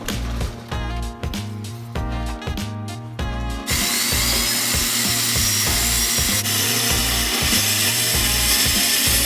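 A saw cuts a hollow-core door panel slowly and seems to be burning. The motor gives a loud, close, steady whine with rhythmic pulsing, and short interruptions come early before a longer continuous cut.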